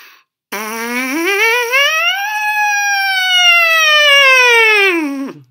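A loud, continuous brass buzz that slides from a low pitch up high, holds, then glides back down low, with no talking.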